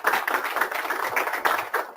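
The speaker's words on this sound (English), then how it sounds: "let's give him a applause" Applause from a seminar audience after a talk: a brief, moderate patter of many hands, fairly soft and even throughout, with no voices.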